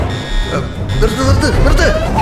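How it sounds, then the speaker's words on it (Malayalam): An alarm in a movie scene buzzes as a steady, continuous electronic tone throughout, partly under excited overlapping voices. "അയ്യോ ദൈവമേ, അലാറം അടിക്കുന്നു"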